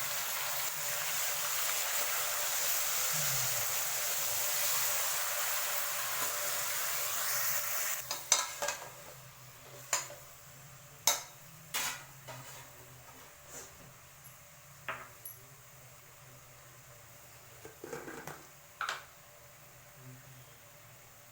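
Chicken with ginger garlic paste frying in a pan for chicken chops: a steady hiss of sizzling oil, then a series of distinct scraping stir strokes at irregular intervals.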